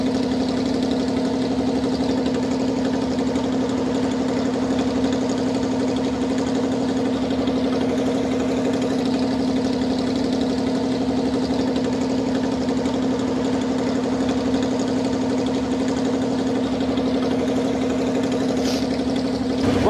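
A 1952 Chrysler air raid siren's engine runs steadily at close range, a constant loud mechanical drone with a strong low hum, holding even from start to finish with no talk.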